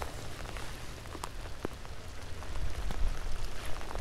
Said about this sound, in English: we're getting rained on